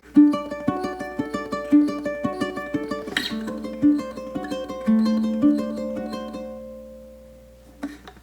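Plucked ukulele notes ring out in quick, repeated triplet picking patterns high on the neck, bright and clear, with sustained notes decaying near the end.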